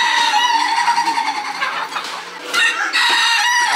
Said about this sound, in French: par là en fait c'est la partie animaux vivants. On a des poules.